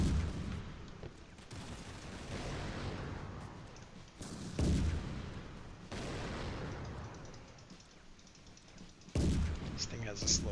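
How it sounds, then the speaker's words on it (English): Gunfire in the toy-themed strategy game Attack on Toys comes as repeated booming shots and explosions in heavy bursts, with short gaps between volleys and a voice talking faintly underneath. "I'm not sure why they're shooting at air units."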